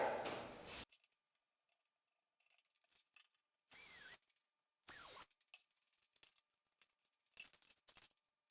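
A small power drill driving into a bracket on a low-cost DIY laser engraver build, heard as several short whirring bursts separated by quiet pauses and faint mechanical clicks.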